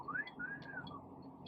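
A man imitates a whistle with his mouth, one rising-then-falling whistled tone followed by a brief fainter trailing note, close and quiet with no talking over it.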